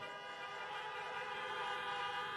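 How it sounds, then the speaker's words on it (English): Car horns honk in a steady, dense chorus at an outdoor drive-in campaign rally, many horns sounding together and held continuously without a break. "Honk, if you agree with me."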